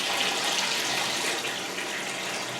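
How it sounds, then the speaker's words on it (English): Cold water pours steadily from a kitchen tap onto a container, a constant close splashing rush with no talking, running to cool freshly made pasta. "run the cold water in on top of it"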